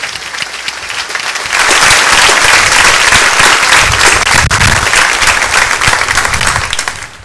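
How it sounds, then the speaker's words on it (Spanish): A church congregation breaks into loud applause, starting with a few scattered claps, then swelling into dense, sustained clapping and cheering from a close crowd that eases off near the end. "vamos a darle un fuerte aplauso a Él en esta mañana"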